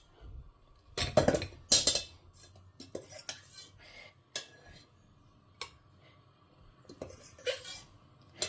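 A pressure cooker is handled in a home kitchen while peas and paneer pulao is prepared. Metallic clanks and knocks come in scattered, close bursts, loudest early on, with quieter rattles in between.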